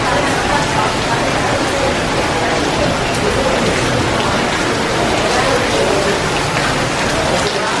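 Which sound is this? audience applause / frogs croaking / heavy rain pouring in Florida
heavy rain pouring in Florida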